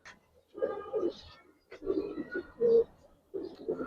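Giribaz tumbler pigeons give low, throaty coos in several short bursts separated by pauses, close by and moderately loud.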